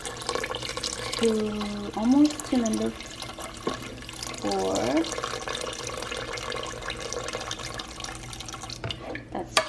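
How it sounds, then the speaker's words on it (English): Tap water runs into a cooking pot in a home kitchen, a steady stream heard close up, with a person talking briefly over it. "And then I'll do the rest with water. So I'm gonna fill it to almost 2 numbers."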